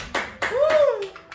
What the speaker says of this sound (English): Give her a round of applause for her,